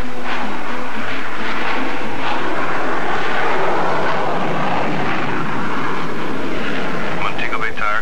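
A 1960s TransCanada jet airliner rolling for takeoff at Montego Bay, a loud continuous engine roar, steady and broadband, with radio voices heard over it.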